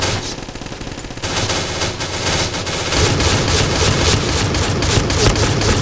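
Rapid automatic gunfire from a gun in the Point Blank shooter game, loud and close, a steady rattling stream of shots that grows denser and stronger after the first second.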